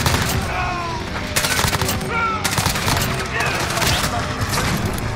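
M4A1 assault rifle fire from the legendary White Noise blueprint in Modern Warfare: loud, sustained rapid-fire bursts crackling continuously, with faint game effects mixed underneath.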